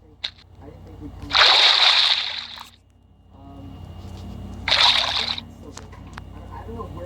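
Water sloshing and splashing in the Minecraft video game, two loud bursts of several seconds each over a steady low background.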